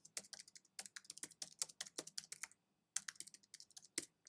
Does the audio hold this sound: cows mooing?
no